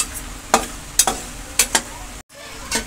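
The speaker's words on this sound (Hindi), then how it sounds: "ये मैंने थोड़ा सा हमारा घी गरम किया है, उसमें ये मखाना डाल के मैं हल्का हल्का गोल्डन करूंगी" Fox nuts (makhana) fry in hot ghee in a pan, a steady sizzle broken by several sharp stirring scrapes and clinks of a spoon at irregular intervals, close by.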